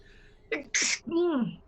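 A single sharp human sneeze, close and loud, with a short intake of breath before it and a voiced tail after, in a quiet room.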